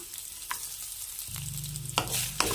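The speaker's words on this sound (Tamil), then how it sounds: "எல்லாத்தையும் நல்லா வதக்கிக்கலாம்" Okra sautéed with curry leaves and coconut in a pan, a soft steady sizzle with a few sharp scraping stirs and clinks from a utensil, close up, growing a bit louder toward the end.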